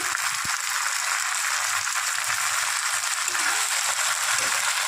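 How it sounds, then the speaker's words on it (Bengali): Leafy greens (garlicky methi) frying in a pan make a steady, close hiss of broadband sizzle that stays even throughout, with no voices heard. "একটু শাকটা ভাজা ভাজা হচ্ছে"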